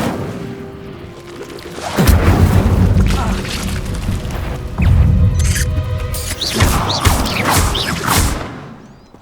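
Fiery spell blasts from the Incendio fire spell in Hogwarts Legacy, several loud booming bursts with whooshing flame over steady game ambience, a voice calling out between them.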